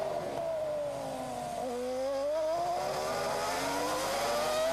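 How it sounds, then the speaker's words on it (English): A Toyota Formula One car at the 2002 Canadian Grand Prix around the hairpin, its engine whining down then climbing again with a stuttering, misfire-like sound from traction control, loud and steady throughout. "You can hear the traction control working on the engine."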